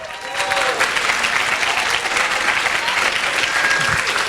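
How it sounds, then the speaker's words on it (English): Audience applauding at a hackathon opening ceremony: sustained clapping from a large crowd, loud and even for the whole stretch with no voices on top. "Let's give a round of applause for them."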